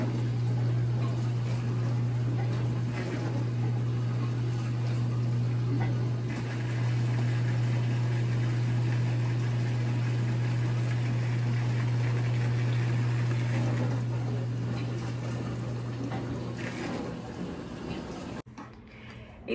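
A Brastemp 8-place dishwasher runs a wash cycle on heavily soiled dishes with tomato sauce, giving a steady, continuous low hum and water swish that holds unbroken before cutting off abruptly near the end.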